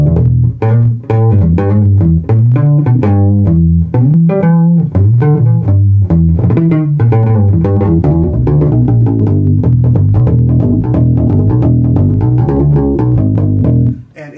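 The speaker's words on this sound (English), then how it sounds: "it gets a fantastic bass guitar sound in the studio" A deep, round bass guitar played with a felt pick through a GRBass ONE800 head and 2x12 cabinet plays a steady groove with soft, muted note attacks, loud and close, with no one speaking.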